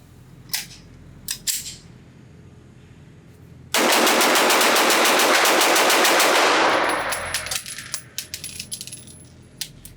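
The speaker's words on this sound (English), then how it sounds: "So here we go, one mag dump" A Springfield Echelon 9mm modular pistol is fired in one continuous mag dump at a range: a few scattered shots first, then a rapid, loud unbroken string of gunfire for about three seconds, followed by fading echoes and small clinks.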